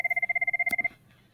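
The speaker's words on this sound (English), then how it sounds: "All right, that's my phone." A telephone rings with a rapid warbling trill of about a dozen quick pulses, fairly close and clear, then stops with a brief click and quiet room tone.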